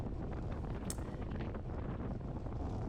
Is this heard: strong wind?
yes